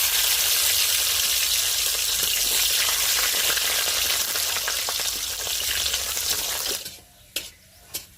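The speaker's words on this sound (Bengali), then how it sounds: "মশলাটা ভালো করে ভেজে নিয়েছি" Dry red chili, bay leaves, five-spice seeds and garlic cloves fry in hot oil for a coriander pickle, a loud steady sizzle that stops near the end, leaving a couple of brief clinks.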